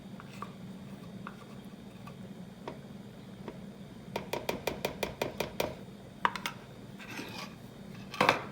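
A utensil taps and clicks against a bowl while beer, honey, salt and pepper are mixed, starting as soft sparse ticks and then becoming a quick run of close, rhythmic clinks.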